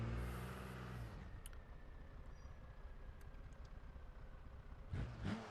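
A simulated car on comp tires in the BeamNG driving game revs hard for a burnout. A strong engine drone is heard at first, then a quieter rumbling idle, then a short renewed rev near the end.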